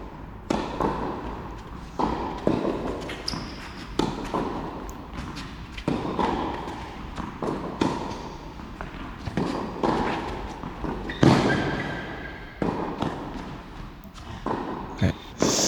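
Tennis rally in a club tournament at Crosne, with sharp ball strikes landing every second or so, including heavy, powerful forehands, over faint court ambience.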